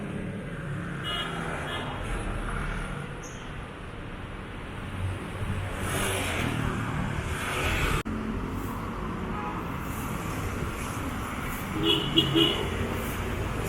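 Busy road traffic in the Philippines, a constant wash of passing engines close by with short horn toots, including a brief cluster of honks near the end, while a voice talks over it.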